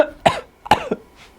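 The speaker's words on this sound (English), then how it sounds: "What about when we cough?" Two sharp, close coughs from a single person, evenly spaced a fraction of a second apart, each a harsh burst with a short rough tail, in an otherwise quiet room.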